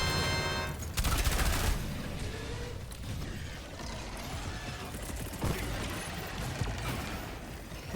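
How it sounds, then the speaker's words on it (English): Rapid, dense gunfire from a Gatling gun barrage in a video game, with mechanical rattling and a sharp burst around the second mark, continuing as a loud, steady clatter throughout with no talking. "Gatling barrage going down."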